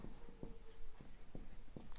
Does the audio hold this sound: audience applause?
no